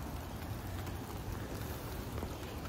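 Steady rain patters on a surface, a soft even hiss of drops with no voices.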